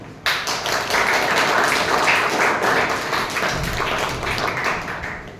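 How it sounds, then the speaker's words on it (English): Audience applause at a Toastmasters meeting, steady dense clapping from a small crowd lasting several seconds, even in level and fading slightly at the end. "please give him a cheerful and warm thunderous applause"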